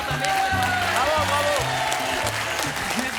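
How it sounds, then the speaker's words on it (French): A French television studio audience on a dance show applauds steadily throughout, a dense wash of clapping with rhythmic music and a presenter's voice running underneath. "Avec Alain et Sophie qu'on applaudit!"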